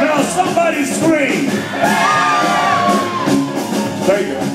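Live concert crowd shouting, whooping and screaming on cue at a performance, a loud, dense mass of overlapping voices that swells and sustains close around the listener.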